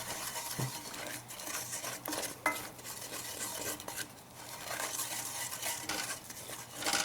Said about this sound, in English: Now it's important that you keep mixing it till you get all 3 tablespoons of flour in there